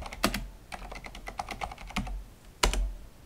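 Keys clatter on a computer keyboard as disk partitioning commands are entered on an old hard drive, a few quick bursts of close typing with short pauses between them, no voices.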